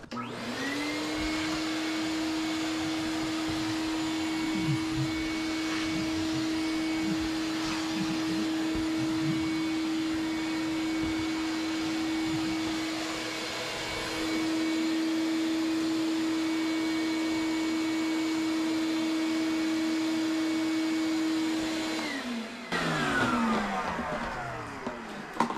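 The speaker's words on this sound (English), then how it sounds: "I love to use my shop vac." A shop vacuum roars steadily at close range for over twenty seconds, its pitch wavering slightly as it sucks up hay and debris from a guinea pig cage, then winds down at the end.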